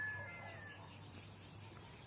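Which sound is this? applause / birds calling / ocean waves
birds calling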